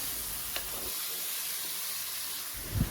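Marinated chicken with onions sizzles and hisses in a pan over medium-low heat while being stirred, a steady frying hiss with a couple of brief scraping bumps.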